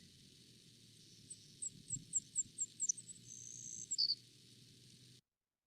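A Savannah sparrow song: a thin, high series of evenly spaced sharp chips speeding into a buzzy trill, ending with a brief final note, clear and alone over low background noise before an abrupt cutoff.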